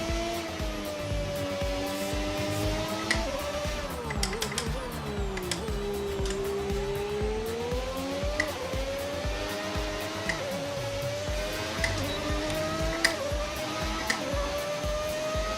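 A race car fitted with a V12 engine mod in a racing video game drones and revs steadily, its pitch sweeping up and down through gear changes, with sharp clicks and ticks scattered over the engine tone.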